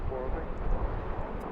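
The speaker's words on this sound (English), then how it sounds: "we got another takeoff here" An airliner taking off from a BWI airport runway on an afternoon, a steady, fairly loud broadband engine roar with wind rumble and no distinct breaks.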